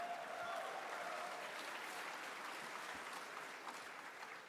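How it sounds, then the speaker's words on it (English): Audience clapping at a convention panel, a steady dense patter of many hands at a fairly distant, subdued level, with faint voices underneath. "Yeah, you're clapping now."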